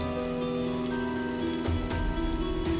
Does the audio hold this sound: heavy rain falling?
yes